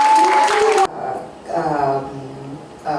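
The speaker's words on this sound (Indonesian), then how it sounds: "Boleh dong tepuk tangan." A short burst of audience clapping, under a second long, cuts off abruptly and gives way to someone talking alone.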